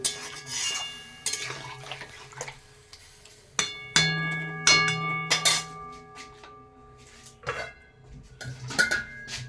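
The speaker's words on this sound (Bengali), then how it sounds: "এবার সমস্ত কিছু ভালো করে মিশিয়ে নিলাম" Grass carp fish curry being stirred together with about a cup of water in a pot, with intermittent clinks and scrapes of a utensil against the pot, close and fairly quiet, no voices.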